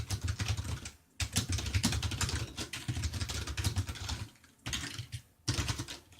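Java code being typed on a computer keyboard: a fast, close run of key clicks with brief pauses in the rhythm, bursts of rapid tapping separated by short gaps.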